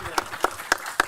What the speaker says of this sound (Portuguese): Palmas para Carol